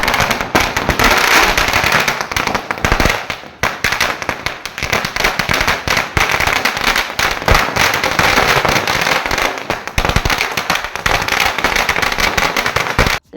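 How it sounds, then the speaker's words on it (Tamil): A long string of Deepavali firecrackers bursts in a loud, relentless volley of rapid cracks and pops, continuing for over thirteen seconds with only brief dips, close by and without talk. "வெறும் சரம் மட்டும் தான் நாங்கள் வெடித்தோம்."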